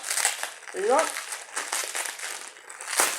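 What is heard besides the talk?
unwrapping a heavily wrapped package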